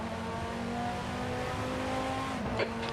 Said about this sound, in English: There's a car leaving the pits.